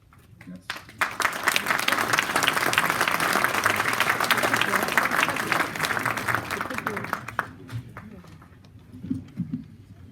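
Audience applause fills a conference hall at the Salon de l'Agriculture after a talk on Côte d'Ivoire's agriculture sector, a dense burst of clapping that swells, holds, then thins out into a few scattered claps.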